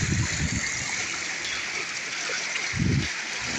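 Broadband rushing of river water flowing steadily near a slippery streambed in Hawaii, a continuous wash with brief low thumps of footsteps or splashes at the start and near the end.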